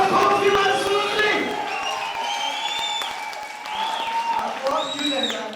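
Church congregation clapping and cheering during a lively service, steady crowd applause with whoops and a voice carrying over the top throughout.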